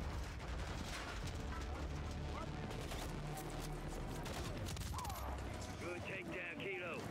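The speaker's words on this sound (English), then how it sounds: "Is that thing firing at me?" A sustained barrage of rapid gunfire and rumbling blasts from Call of Duty: Modern Warfare III, dense and continuous throughout, with a few whistling tones rising near the end.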